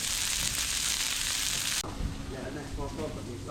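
Burgers and a bit of steak frying on a grill give a steady, loud, broadband sizzle that cuts off sharply partway through, leaving quieter crackling and background clatter.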